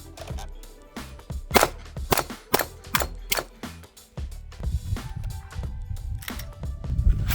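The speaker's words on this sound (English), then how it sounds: "Now the faster string of fire." Rapid string of sharp pistol shots from a compensated or non-compensated handgun, around a dozen loud close cracks in quick bursts with short gaps, ringing echoes and some low rumble between volleys.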